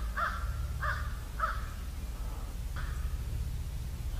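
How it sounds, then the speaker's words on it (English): Crows caw in a quiet outdoor setting, three evenly spaced caws followed by a fourth after a pause, moderately distant over a low steady rumble. "We have crows who are saying something, but we don't speak crow"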